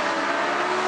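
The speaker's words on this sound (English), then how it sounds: "The engine sounds fantastic because it's got straight-through exhausts in it." A Lamborghini Gallardo Superleggera engine with straight-through exhausts roars loudly and steadily, a dense continuous drone with no pauses across the short moment.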